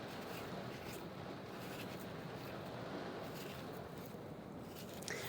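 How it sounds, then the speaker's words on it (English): Rain from a rainstorm drumming on a kitchen skylight, a dense, even broadband hiss of droplets that holds steady and moderately loud for the whole stretch, with no talking. "some rain hitting the skylight in the kitchen,"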